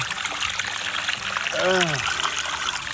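Black sludge water pours out of a garden pond filter in a continuous trickling, splashing stream, with a brief whooping tone partway through and a voice talking alongside.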